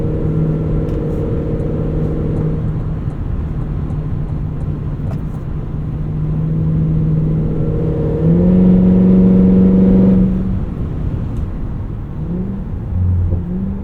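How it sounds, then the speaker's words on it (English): A 2025 Cadillac Escalade V drives under power, its engine a steady low drone that swells and shifts pitch as the automatic transmission downshifts, with the note rising toward the end before settling again. "Speed downshifting automatically there, making good decisions."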